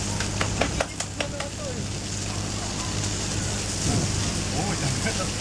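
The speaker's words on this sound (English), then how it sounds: "It's sparkling and letting off steam." Apples fitted with wire antennas spark and steam inside a running microwave: quick crackling snaps, densest early on, over a constant loud hum and hiss.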